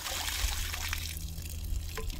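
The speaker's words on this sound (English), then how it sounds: "and it lets out your soapy water." Soapy gray water draining from the gray tank valve of a Forest River Wolf Pup RV, a close, steady trickling and gurgling flow with no talking.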